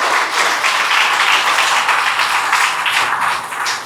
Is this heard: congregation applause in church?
yes